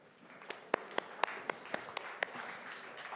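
Sparse clapping at a humanoid robotics summit as a presenter is welcomed on stage, about eight distinct, evenly spaced claps over faint background clapping in a large room.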